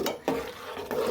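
Broken polao rice stirred in a pot for khejur gur payesh, two quick scraping stirs of a spoon against the pot, close and brief with no talking.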